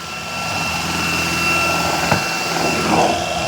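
Shark PowerPro Flex Pet cordless vacuum, model IZ387H, running at high suction: a steady, loud whirring motor drone with a faint high whine and one brief bump partway through.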